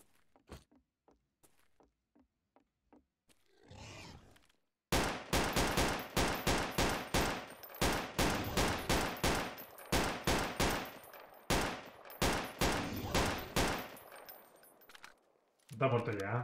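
Rapid bursts of automatic gunfire in the shooter game Stalker Online, preceded by a few soft clicks and a short shuffle, then loud, dense volleys of shots that stop and start over about ten seconds.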